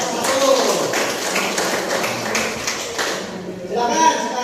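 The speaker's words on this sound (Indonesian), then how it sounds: "Beri tepuk tangan untuk kelompok" Students in a classroom clap for a discussion group, a scattered, moderately loud patter of hand claps with some louder individual claps, fading near the end as a voice is faintly heard.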